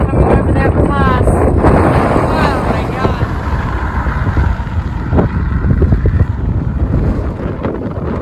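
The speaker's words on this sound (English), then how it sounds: "the wind really picked up and hit 80 coming over that pass" Strong wind roars on Qeshm Island while cycling over a mountain pass near Laft, a loud continuous buffeting rush across the whole stretch with gusty swells and heavy low-end microphone rumble.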